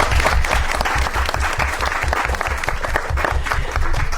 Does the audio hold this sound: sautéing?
no